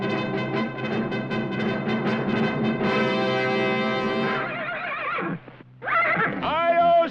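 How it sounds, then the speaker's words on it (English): A fiery horse in an animated Lone Ranger adventure lets out a long, loud whinny that rises and trembles, after hoofbeats and before a second shrill neigh, with a narrator's voice underneath. "A fiery horse with the speed of light"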